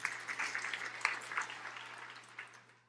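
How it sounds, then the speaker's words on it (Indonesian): A church congregation gives applause, an uneven patter of claps with a few louder peaks, tapering off toward the end over a low steady hum. "Tepuk tangan yang meriah untuk kemuliaan Allah"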